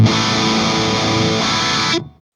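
Electric guitar run through an ENGL Fireball pedal with a 4x12 cabinet IR, a dense distorted chord held steady for about two seconds, then cut off abruptly with no talking.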